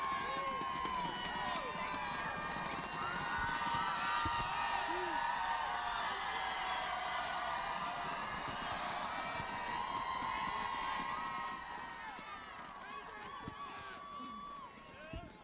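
A large campaign rally crowd in West Chester, Ohio cheers and whoops continuously, a sustained roar of many voices with scattered shouts that eases slightly toward the end.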